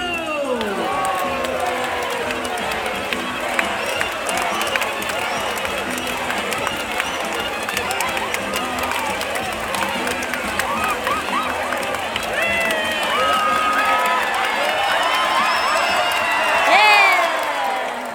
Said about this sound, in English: you have to cheer even louder